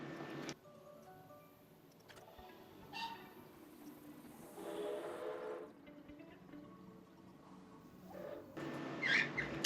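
A faint train in the video game Planet Coaster 2 rumbles along in the distance, with clattering bursts and a brief horn-like tone, over quiet background ambience and occasional bird calls.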